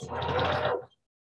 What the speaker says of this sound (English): I'm just sewing these together like one row at a time